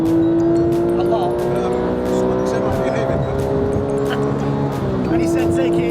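A Porsche 997 GT3 driven hard on the road to Hatta in Dubai, its engine loud and close from inside the cabin, holding a sustained rising drone with brief shifts in pitch, while people talk over it.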